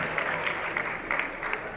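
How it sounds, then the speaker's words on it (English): Audience applause at the Yuva Fashion Show as Mr. category contestant number 42 walks on, a steady dense patter of many hands, moderately distant and continuous with no voices over it. "Big round of applause everyone for Shreyas"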